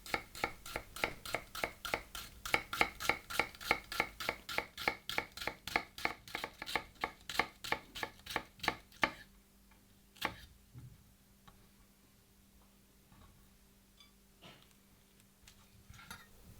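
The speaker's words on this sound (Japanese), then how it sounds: "よく切れる包丁で縦に細かく切り目を入れていきます" Sharp knife finely scoring a halved shallot lengthwise on a cutting board for mignonette sauce: a fast, even run of crisp close taps for about nine seconds, then a few scattered softer knocks and quiet handling.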